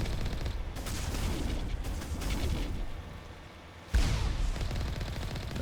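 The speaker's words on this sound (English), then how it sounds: "That guy's just shot himself with a rocket" Heavy combat in Mass Effect Legendary Edition, with continuous rapid weapon fire and a sudden loud rocket blast near the end that jumps out above the steady barrage.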